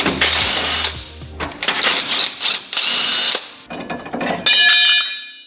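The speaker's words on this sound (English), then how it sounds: "We'll go ahead, undo these U-bolts and chuck the spacer in." Ratchet and tools working loose the U-bolts on a Nissan Navara D40's leaf springs during a lift kit install, a run of loud, close clicking and metallic clanks in uneven bursts, with no talking.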